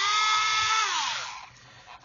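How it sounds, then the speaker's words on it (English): A small power drill whines through a plastic part of a 1/32 scale Lancaster model kit, its pitch dropping as the motor slows and winds down, close and alone. "Let's just drill in there."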